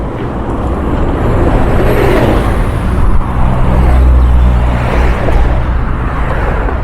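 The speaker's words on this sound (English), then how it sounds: "Here comes the bus to Frome." A bus rumbles past close by on a village road, its low engine drone swelling and fading steadily amid constant road noise.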